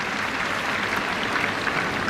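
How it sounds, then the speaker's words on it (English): A large crowd at an England v India cricket Test match cheers and applauds in a steady, broad roar that holds throughout without breaks. "That's the cheer you can hear from the crowd."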